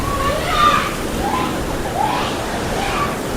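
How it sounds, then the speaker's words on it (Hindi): Strong surf washes repeatedly onto a beach at Nusa Penida, with a steady rushing roar that surges in rhythmic swells, while a voice talks over it. "बहुत ही तेज़ पानी का वेव आ रहा है"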